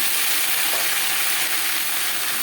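Papaya frying in a pan for vegetable dalia khichuri, a loud, even, continuous sizzle close up with no voices over it.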